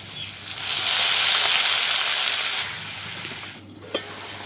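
Potatoes and amaranth stalks frying together in a pan give a steady, fairly loud broadband sizzle that fades after a few seconds into quieter hiss with a couple of light clinks.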